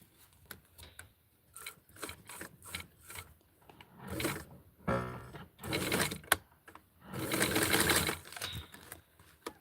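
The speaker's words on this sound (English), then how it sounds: "And I will sew it." A sewing machine stitches an elastic panty waistband onto fabric, running in short, irregular bursts of whirring with brief pauses between, ending in a longer, louder run.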